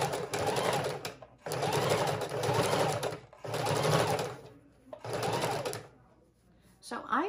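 Sewing machine stitching a fabric junk journal cover, several loud whirring runs of a few seconds each separated by short pauses, close by, with a voice briefly heard near the end.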